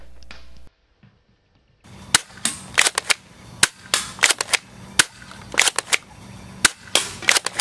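A Well R6 M4A1 airsoft rifle fires on full auto: sharp, close snapping cracks in an uneven rapid string after a short silent pause, with no voices.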